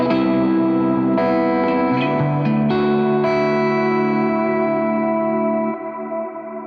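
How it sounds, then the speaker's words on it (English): Sustained guitar chords drenched in lush reverb and echoing delay, notes swelling and blooming into a wide ambient wash that slowly fades. "So that's how I dial in an ambient reverb and delay sound."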